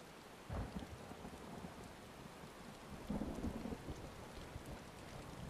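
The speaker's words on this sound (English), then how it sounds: "Just the thunder and the rain." Steady rainfall with low rumbles of thunder rolling in twice in Final Fantasy VII Rebirth, the storm sounding soft and somewhat distant, no voices.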